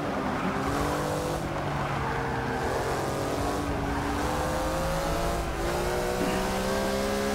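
A 2011 Porsche Flying Lizard 911 race car in Forza 6 holds a loud, continuous engine drone, close and steady with shifting pitch through turns, a faint hint of tyre squeal and no voices.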